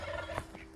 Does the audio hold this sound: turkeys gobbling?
yes